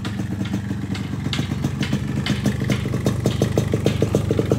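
A 2005 Yamaha RX-King motorcycle engine runs close by with a rapid, even two-stroke putter, steady and fairly loud with no talk over it.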